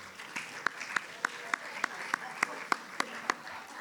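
At a spring varsity sports awards event, applause for the boys tennis team is led by a single clear, evenly spaced clap repeating about every third of a second over a soft background of scattered clapping from a crowd.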